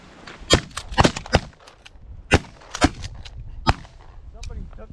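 Shotgun blasts during a duck hunt for pintail, mallards and widgeon, several sharp outdoor shots in a quick irregular volley, some overlapping, with voices talking between them.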